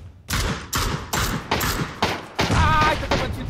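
Video game gunfire from a Rainbow Six or PUBG match rings out in about seven evenly spaced, sharp, loud shots, each decaying before the next, with a faint tonal effect near the end.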